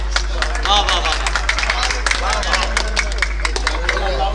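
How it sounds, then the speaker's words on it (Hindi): A mushaira audience claps to welcome a poet on stage, a dense run of sharp hand claps lasting several seconds, close and loud, with a low steady hum underneath. "जोरदार तालियों के साथ इस्तकबाल कीजिए जनाब नदीम रमज़ी साहिब"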